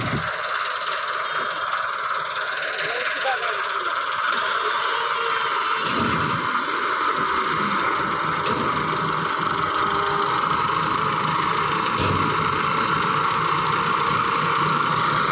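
Steady drone of a tractor engine running continuously throughout, loud and close, with a broad rumble and no speech over it.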